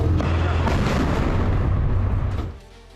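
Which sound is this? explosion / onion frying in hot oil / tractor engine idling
explosion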